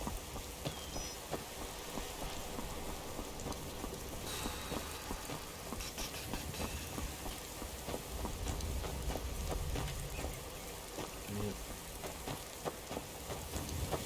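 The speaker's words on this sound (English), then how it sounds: "Another rainy day in Skyrim." Steady rain falls in the Skyrim video game, a continuous broadband patter with occasional rumbling and no voices or music.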